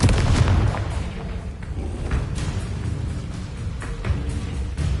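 Explosive spell blasts and booming impacts in Hogwarts Legacy, heavy low rumbling bursts with sharp cracks, loud and close, arriving in a rapid series across a noisy, continuous combat backdrop.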